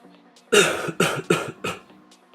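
A man coughs four times in a quick series of harsh, close bursts, each fading before the next, with quiet background between.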